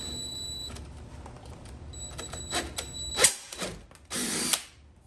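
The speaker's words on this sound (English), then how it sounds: "just go ahead and drill into there." Power drill boring into a 1/8 inch pilot hole in a Dodge Charger's body, brief bursts of whirring with clicks and a short louder whine near the end, close and fairly quiet with no talk.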